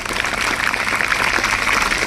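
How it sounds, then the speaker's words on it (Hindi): Audience clapping at a school award ceremony honouring girl students at Rise International School, a dense steady wash of many hands applauding together, loud and continuous throughout with no voices standing out. "एक बार स्वयं के लिए जोरदार तालियां बजा दें"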